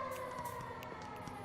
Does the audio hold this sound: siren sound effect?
yes